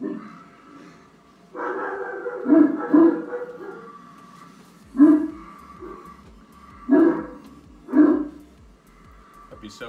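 A dog barks and yips several times in a played-back home sleep recording, with sharp, close bursts spaced a second or two apart over a steady room hum, mixed with a low murmuring voice.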